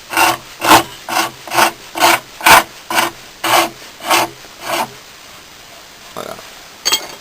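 A hand rasp scrapes across a wooden knife handle in about ten rhythmic strokes, each a loud, close, gritty burst roughly half a second apart, then the strokes stop and a few lighter scrapes follow.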